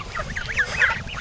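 Young goslings peep and honk in soft, rapid, overlapping calls close by, a continuous twittering chorus lasting about a second with no speech.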